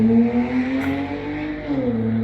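A four-cylinder Dodge Charger drives past, its engine a steady harmonic drone with a brief rise in pitch near the end, fairly close and loud with no talk over it.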